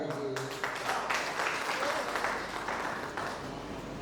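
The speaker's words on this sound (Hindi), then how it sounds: "इससे पहले मुझे आदेश ताली बजा कर दीजिए" Audience applause at a Hindi kavi sammelan, a poetry recital, rising to a steady wash of clapping that holds for several seconds under faint voices.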